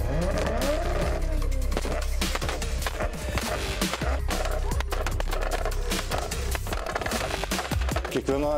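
A car does a burnout at a car enthusiasts' meet, the engine roaring loudly and continuously while the tires squeal and crackle with rapid popping bursts throughout.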